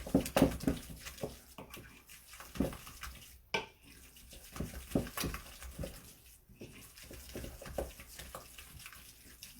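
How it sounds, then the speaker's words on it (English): A spoon stirs pot sticker dumpling filling vigorously in a bowl, making a continuous stretch of wet slapping and scraping strokes that repeat quickly and stay at moderate volume. "It says to stir vigorously, so we want to really get in there and stir it together."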